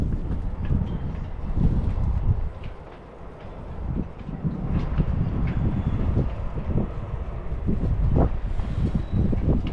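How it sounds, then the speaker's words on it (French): Wind buffets a sailboat outdoors, heavy gusty rumbling across the microphone with rising and falling surges, loud and continuous throughout with no talk. "il y a du vent"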